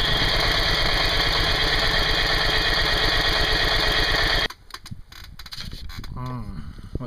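An Onan generator engine runs loud and steady with a dense rumbling drone, then cuts off abruptly partway through, leaving quieter clatter and a voice speaking.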